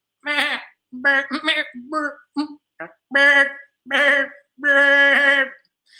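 A person imitates a goat's bleat, voicing a series of short, wavering 'maa' calls with brief pauses between them.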